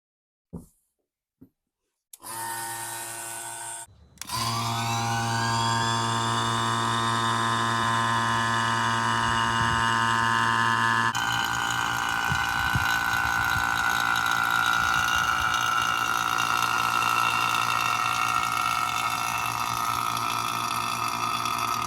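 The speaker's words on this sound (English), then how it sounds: "we'll just let this pump do the vacuuming for 45 minutes" A vacuum pump hooked to a car A/C system starts after a few short clicks and runs steadily, a loud continuous motor drone with a high whine holding level, then shifting slightly in tone partway through.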